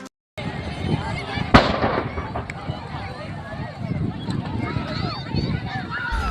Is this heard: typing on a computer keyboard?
no